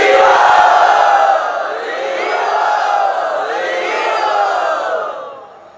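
A large crowd cheers and shouts loudly, a sustained roar of voices with whoops that swells, holds, then fades out at the end.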